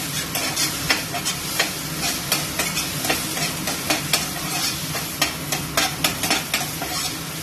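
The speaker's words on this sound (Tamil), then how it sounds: "டொமேட்டோ கெச்சப் ஆட் பண்ணியிருக்கேன். நல்லா மிக்ஸ் பண்ணிக்கிறேன்." Tomato ketchup and dried chili flakes are stirred together into a sauce in a pan, a steady sizzle running throughout with repeated clicks and scrapes of the spoon against the pan, close and moderately loud.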